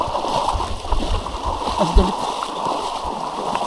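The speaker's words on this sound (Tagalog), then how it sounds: "ayun umagos na dito yung tubig" Floodwater flows and splashes along a flooded street with parked motorbikes, a steady rushing wash with scattered splashes, close and loud, while people talk over it.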